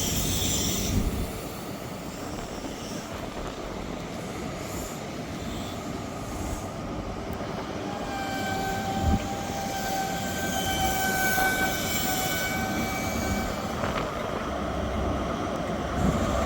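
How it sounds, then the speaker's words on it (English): A ScotRail Aberdeen to Glasgow Queen Street train departing Montrose station, with a loud steady rumble of wheels and carriages and a high wheel squeal in the middle, with no voices. "Departing out now is the 1410 Scotrail service from Aberdeen to Glasgow Queen Street."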